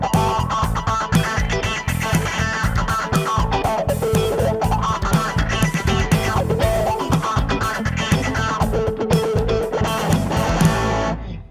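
Electric guitar playing a repetitive single-note groove through a wah pedal, with sweeping tonal swells rising and falling over a steady, rhythmic backing that runs continuously at a strong level.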